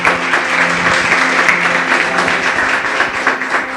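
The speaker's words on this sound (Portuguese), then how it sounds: "Louve ao Senhor com as suas palmas bem fortes" Church congregation claps hands loudly in praise at the close of a service, sustained dense clapping with a low hum beneath.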